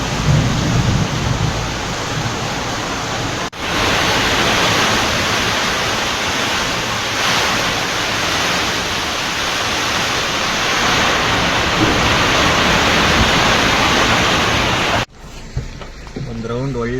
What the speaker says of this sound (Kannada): ಅಲ್ಲಿ ನೋಡಿದ್ರೆ ಮಳೆ ಹಾಕೊಂಡು ಚಿಕ್ಕೈತೆ